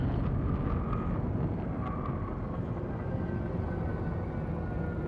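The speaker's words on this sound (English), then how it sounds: "That hum, by the way, in the background, that's the probe itself" Low, steady rumbling hum of a Thargoid probe in the space game Elite Dangerous, a dense droning background with faint tonal whines drifting over it, no voices.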